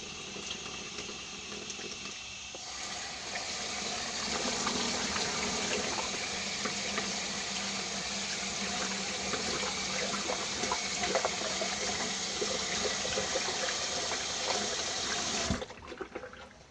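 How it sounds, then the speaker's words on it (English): Water runs steadily from a bathroom tap during handwashing, a continuous close splashing stream that starts abruptly and cuts off near the end. "Washing hands,"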